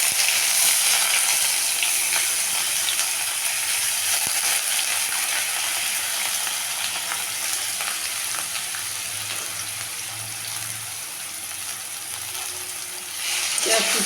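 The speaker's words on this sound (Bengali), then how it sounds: "পেঁয়াজ কুচিটাকে একটু ভেজে নেব, একদম পুরো লাল করব না, একটু গোল্ডেন, একটু গোলাপি কালার ধরা পর্যন্ত একটু ভেজে নেব" Chopped onion frying in a pan of hot oil tempered with dried red chillies, bay leaf and fennel seeds, a steady dense sizzle running throughout with occasional clicks of stirring, slightly louder at the start and end.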